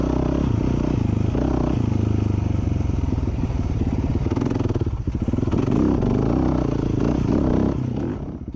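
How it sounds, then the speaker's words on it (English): A 450 motorcycle engine fitted with a Steahly flywheel weight chugs steadily at low revs, with a deep, rhythmic thumping pulse and some mechanical clatter, heard close up. "you can hear this 450 just chugging along"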